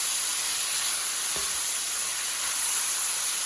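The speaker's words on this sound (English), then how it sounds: "Bacon is in the pan cooking." Chopped bacon sizzling in a pan at a campsite breakfast, a steady, even hiss with faint crackle running throughout, one brief soft knock partway through.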